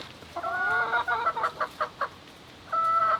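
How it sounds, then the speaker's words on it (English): A hen clucks loudly and close by, first with drawn-out agitated squawks and then a run of sharp, rhythmic clucks, before a final harsh cry, with no voices over it. "It's tough being a chicken."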